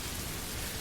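Steady rain falls in a dense, even hiss with no gaps or distinct drops, heard alone as a continuous backdrop.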